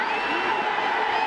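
Baseball stadium crowd in the bottom of the seventh inning, a continuous dense roar of cheering spectators, loud and even throughout.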